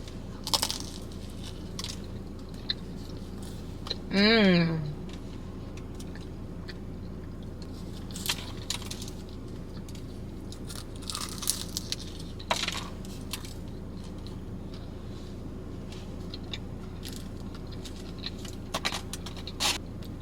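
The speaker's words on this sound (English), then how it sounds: "let's try some spanakopita. I love how it's in a spiral." Crunchy spiral spanakopita from a Greek festival is chewed close up, with soft crisp bites and a few scattered crunches over a quiet room, plus one brief higher squeak partway through.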